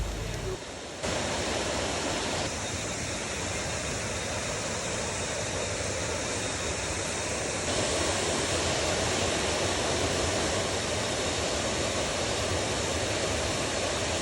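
Steady, dense rush of a large, tall waterfall in Tai Rom Yen National Park, Surat Thani, Thailand, fills the whole stretch, a broad continuous roar close by with no breaks.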